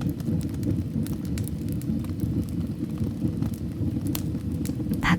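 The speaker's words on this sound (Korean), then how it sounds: "불은 아직 타고 있다" Wood burns in a fireplace in a snowy Swiss mountain cabin, giving a steady low rumble broken by scattered sharp crackles and pops, close and continuous with no voices.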